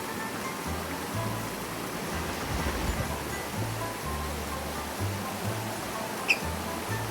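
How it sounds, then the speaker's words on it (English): Rushing water from a waterfall along a trail in Japan gives a broad, steady roar with a low rumbling undertone, continuous and fairly distant, with one brief sharp click near the end and no talking. "This trail is famous for its waterfalls."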